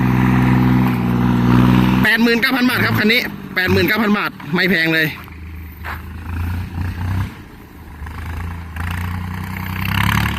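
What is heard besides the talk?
tractor engine running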